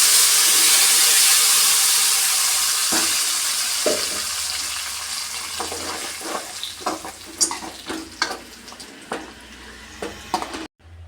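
Spices fry in hot oil for coconut rasam, a loud steady sizzle and hiss that gradually fades, followed by a series of close clinks and stirring taps against the pan.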